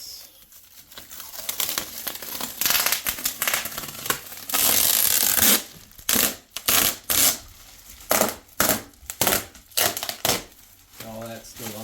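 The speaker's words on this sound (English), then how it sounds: "Make sure you gotta get all the tape off, because it likes to not all peel off at once." Clear tape peeling off a window frame while insulating plastic is being removed, heard as rough crinkling rips and then a run of short, loud tearing bursts in quick succession, close by.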